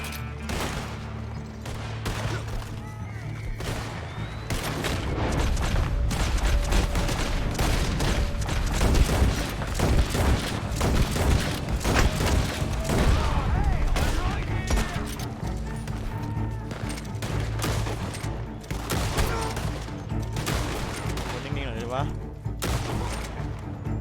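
Cap guns fired in the Red Dead Redemption 2 Online game, with a dense run of sharp popping shots and gunfire going throughout, loud and close, mixed with game noise and what sounds like horse hooves.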